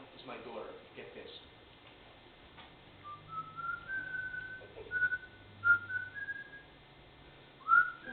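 A seven-year-old child whistles on a recording being played back: a string of short, clear whistled notes, some sliding, coming and going over a quiet, faintly noisy background.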